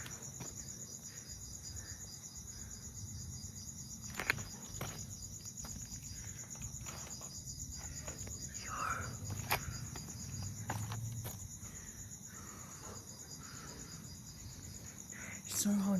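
Crickets chirp at night near a pair of converging tunnels in a steady, high, continuous trill that runs throughout. The layer is faint to moderate, with occasional soft footsteps and rustles close by.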